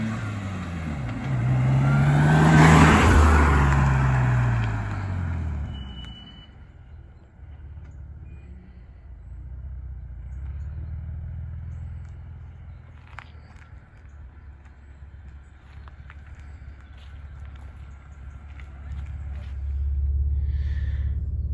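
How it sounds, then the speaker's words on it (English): A performance Vauxhall Insignia pulls in close with a loud, swelling engine note that peaks early as it passes, then settles into a lower, steadier rumble as it keeps driving, with some faint rattles and footsteps in the background. "Here comes Gary Marshall, the owner of the car. I daren't drive this thing."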